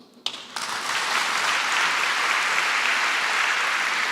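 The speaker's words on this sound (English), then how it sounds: "A round of applause for Tom Palmer" An audience at a gala opening breaks into applause for Tom Palmer, a few early claps swelling within half a second into a full, steady roar of clapping that holds loud and even for several seconds.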